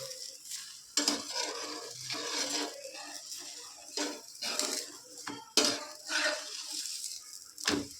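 Obbattu flatbread frying in oil on a pan and being flipped, with repeated scraping and clinking of a metal spatula against the pan over a steady sizzle, close and moderately loud.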